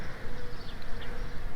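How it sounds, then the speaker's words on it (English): Bees swarm around a smoke tree in full purple bloom in a Palm Springs neighborhood, making a dense, steady buzz that fills the air close by. "The bees buzzing around here?"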